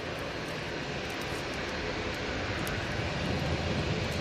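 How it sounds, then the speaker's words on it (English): A Ryanair Boeing 737 jet departs Manchester Airport during Storm Floris, its engines a steady broadband roar held at even loudness throughout, blended with wind noise. "737 now going out."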